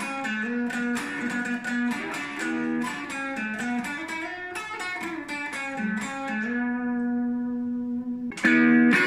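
An electric guitar played with a clean tone, recorded without an audio interface, picks out a melodic line of single notes and chords. The notes ring clearly with some sustain, then a final strummed chord lands near the end.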